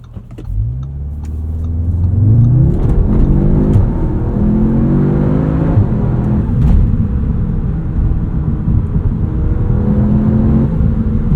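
A 2025 Audi S3 with a dual-clutch gearbox revs hard under acceleration, its engine note climbing steadily with audible turbo boost noise; loud and close from inside the cabin, continuous over about eleven seconds with no talking.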